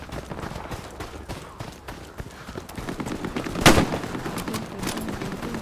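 Gunfire in Hell Let Loose, a World War II shooter: repeated distant rifle and machine-gun shots crack throughout, building to one loud, sharp nearby shot near the end, followed by further scattered firing.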